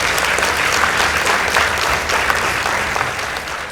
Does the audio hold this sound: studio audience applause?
yes